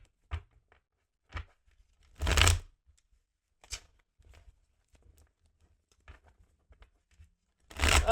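Tarot cards being shuffled in several short riffling bursts separated by quiet pauses, close and fairly soft.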